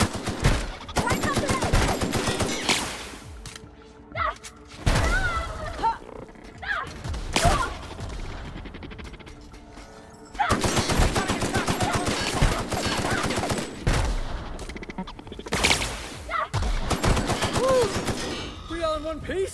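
Weapon gunfire in The Outer Worlds: loud bursts of rapid shots in several clusters with pauses between, interspersed with grunts and thuds of combat, shots close and punchy.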